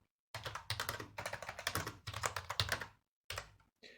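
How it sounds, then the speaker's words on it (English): Rapid typing on a computer keyboard, close and crisp, in bursts of clicking keys separated by short pauses. "I think you might be hearing my keyboard quite a lot because it's quite close to the microphone"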